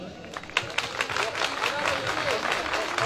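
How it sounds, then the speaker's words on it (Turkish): Audience applause with scattered sharp claps breaks out after a Turkish folk song about loving a village girl, steady and moderately loud over a few seconds, with some voices mixed in. "Alkışlar."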